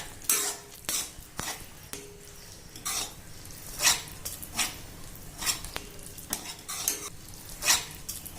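Pumpkin halwa tinted with kesari colour is stirred in a pan, a spoon scraping and clinking against the metal in a regular series of sharp strokes over a soft sizzle, no voices.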